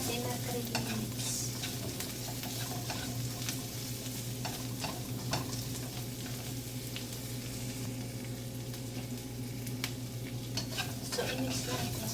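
Carrots stir-fried with asparagus and shrimp in a pan sizzle loudly and continuously, with frequent utensil scrapes and taps against the pan, close and with no talking.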